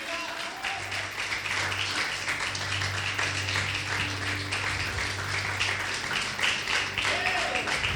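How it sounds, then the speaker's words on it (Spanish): A church congregation claps in sustained applause, a dense steady patter of many hands heard at moderate distance, with a voice speaking over it. "Dale un fuerte aplauso al Rey de Reyes."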